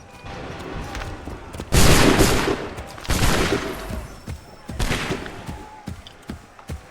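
Soldiers in Assassin's Creed 3 fire musket volleys in three loud, broadband bursts, each a ragged crackle of many shots that fades with a rolling tail, separated by quieter battlefield ambience with faint distant pops.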